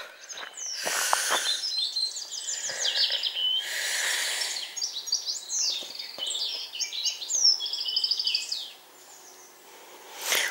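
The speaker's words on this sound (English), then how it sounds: "Hear the birds?" Several birds sing and chirp along a countryside walking path in Congresbury, overlapping bright trills and calls that continue for most of the clip, fairly close and clear over a quiet background with no talking.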